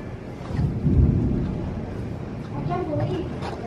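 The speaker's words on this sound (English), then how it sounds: "Another storm rolling in." Low, rolling thunder from an approaching storm rumbles steadily, swelling around the first second, with a voice briefly audible near the end.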